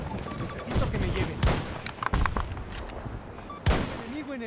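Sniper rifle gunfire in the Battlefield 2042 video game, several sharp cracking shots scattered through a busy game soundscape, with people talking at moments.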